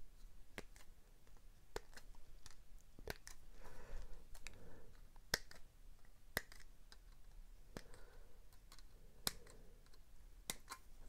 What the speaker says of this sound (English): So just cut out the canopy.